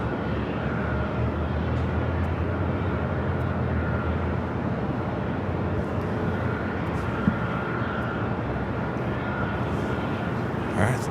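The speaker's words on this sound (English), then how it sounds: "Beautiful takeoff." Airliner taking off at Los Angeles LAX airport, a steady broad engine roar held throughout at moderate distance, with faint voices underneath.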